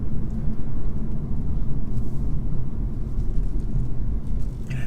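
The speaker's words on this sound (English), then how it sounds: "Engine just has this really nice grumble to it" A 2017 Audi S4 engine gives a steady low grumble while the car is driven, a continuous dense rumble with road noise and no talking.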